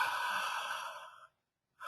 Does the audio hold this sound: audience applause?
no